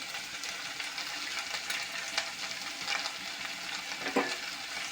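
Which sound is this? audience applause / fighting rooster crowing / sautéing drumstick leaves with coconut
sautéing drumstick leaves with coconut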